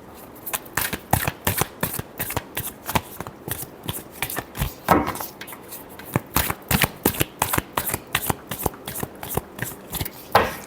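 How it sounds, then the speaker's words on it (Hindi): Tarot cards shuffled briskly by hand over nearly eleven seconds, a dense run of sharp riffling snaps and flutters in quick uneven bursts, close and fairly loud with no talking. "last shuffle"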